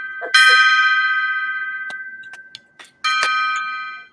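A gong-like chime rings out and decays slowly, then a few faint taps follow before a second strike rings again, clear and close with no talk.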